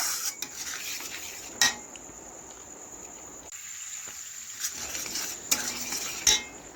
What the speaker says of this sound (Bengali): এভাবে নাড়াচাড়া করে একটু মিশিয়ে নিলাম লবণ